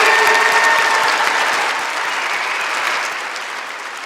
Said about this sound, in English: Let's applaud for the health science graduates.